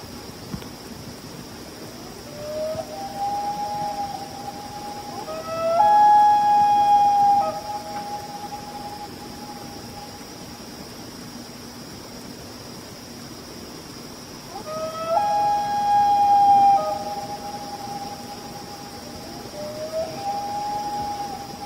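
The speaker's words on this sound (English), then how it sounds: "So these are loons, and very common in North America, northern part of Europe." Common loons call at night on a lake, long wavering wails that rise and hold, heard in two separate bouts over a faint steady background hiss.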